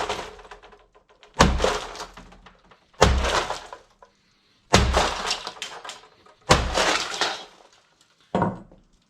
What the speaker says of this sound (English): It's even faster to take it apart with a bigger hammer like this.